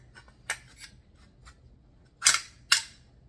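Rifle barrel fitted with its barrel nut slid into place and locked, a few faint metallic clicks followed by two sharper, louder snaps close by, with quiet gaps between them.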